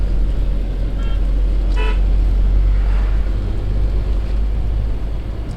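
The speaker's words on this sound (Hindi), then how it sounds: "उन्होंने हॉर्न दिया था, मैंने कहा मैं भी दे देता हूँ।" A car horn honking on a mountain road drive, two short toots heard over loud, steady engine and road rumble from inside a moving vehicle.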